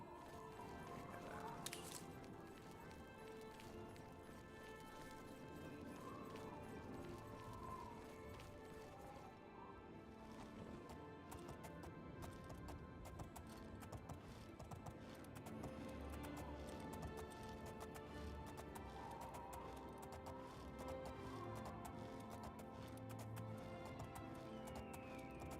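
Horse hooves clip-clopping in the video game Oblivion, a faint, steady run of hoofbeats under game ambience and scattered background noise, with no clear talking.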